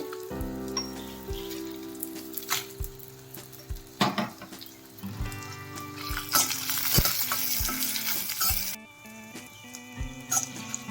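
Dried red chillies fry on low heat in a pan for a cucumber roti chutney, with a steady close sizzle and irregular clacks of stirring, with no voices.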